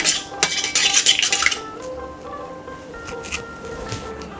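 A metal spoon stirs turmeric into lentils in a pot for sour raw-mango dal, scraping and clinking quickly at first, then giving way to softer, scattered taps.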